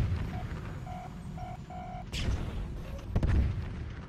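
Tank cannon fire in the online game Tanki Online. A few heavy booming blasts land in the second half, after a quieter stretch broken by short repeated beeping tones.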